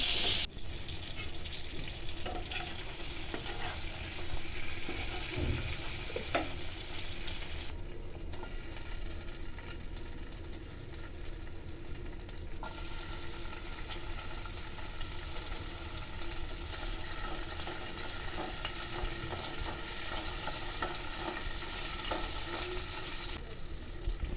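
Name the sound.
green tomatoes frying in oil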